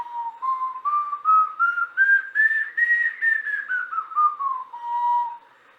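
A homemade whistle is blown in one long, steady breath. Its clear tone glides gradually upward, then slides back down, pulsing slightly throughout and ending abruptly, loud and close with no talking.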